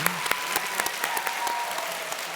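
An audience at a talk show claps steadily, a dense patter of applause with a few sharp individual claps standing out, fairly close.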